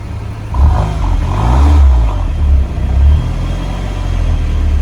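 A Porsche Macan's engine revs up close by, with a deep, rumbling swell that rises, dips and rises again before settling back to a throaty idle.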